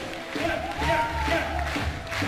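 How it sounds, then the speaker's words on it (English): Spectators at the European Dodgeball Championship 2014 in Austria make a crowd din of cheering voices and clapping in a short, loud burst with shouting tones, with no clear single speaker. "Clapping away"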